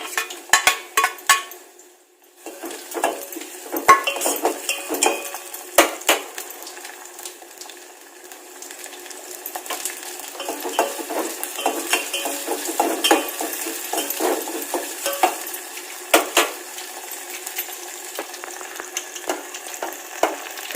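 Tempering of chana dal frying in oil for a potato palya in a home kitchen, with a spoon stirring and scraping the pan; sharp clinks and scrapes over a steady sizzle after a brief quiet start.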